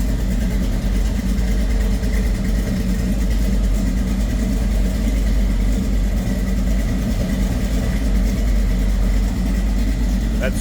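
1967 Chevrolet C10 Stepside with a stroker engine idling low through 2.5-inch dual Flowmaster mufflers, a steady, deep, rumbling burble heard close and continuous.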